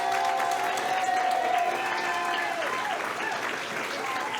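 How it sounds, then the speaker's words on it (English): Audience at a community awards ceremony gives a sustained round of applause, steady and fairly loud throughout, with faint voices and cheering mixed into the clapping. "give one more round of applause for Miss Mary Clark."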